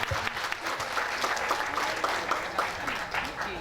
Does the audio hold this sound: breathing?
no